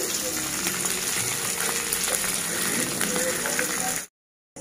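Nigella seeds and a little onion hit hot oil while chapila fish is being cooked, giving a continuous close sizzle and crackle that stops abruptly near the end, leaving silence.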